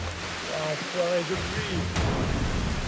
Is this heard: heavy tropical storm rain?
yes